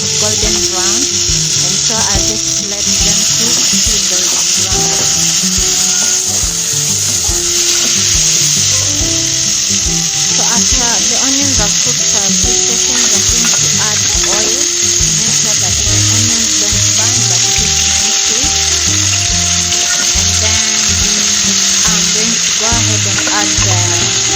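Onions fry with dry-fried pork for Kenyan-style wet fry, a loud continuous sizzle with a buzzing hum, and a person talks over it throughout.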